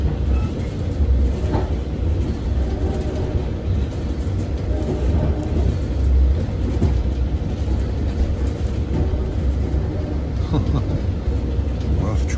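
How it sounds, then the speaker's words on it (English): A steady, continuous low rumble and rattle of a Long Island Rail Road train rolling over rough track and crossings through Riverhead, loud and close throughout. "Rough track. Man, the train make a racket going through Riverhead with these crossings."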